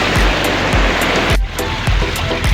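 A spring-fed stream in a rain-soaked Konkan jungle rushes loud and close, a continuous full roar of water broken by regular soft thumps.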